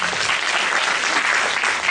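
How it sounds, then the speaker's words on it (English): Students at a university orientation programme clap for themselves, a dense, steady burst of applause from a roomful of hands, loud and unbroken throughout with no talk over it. "Great, please clap for yourself."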